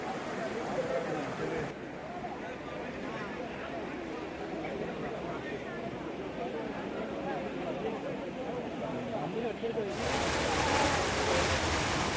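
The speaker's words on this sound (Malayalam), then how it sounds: "നല്ല പവറുള്ള ഒഴുക്കാണ്" Strong floodwater rushing across a small town road in flooded Kondotty, Kerala, a steady loud roar of flowing water throughout, with a brighter, harsher surge near the end.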